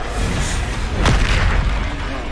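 In the video game Hogwarts Legacy, a Bombarda spell sets off a single deep explosion about a second in. The heavy, close boom rises out of dense, constant game noise, with no talk over it.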